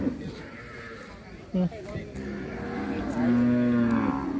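Water buffalo at a Thai cattle and buffalo market call out with low bleating moos, one longer drawn-out call near the end, heard under an auctioneer's continuous chatter.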